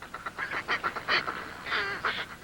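Fulmars cackle in harsh, rapid bursts, several calls overlapping at close range with no voices.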